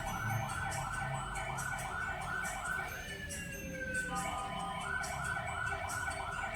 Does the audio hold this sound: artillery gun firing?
no